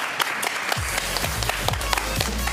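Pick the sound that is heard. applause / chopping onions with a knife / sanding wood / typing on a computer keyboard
applause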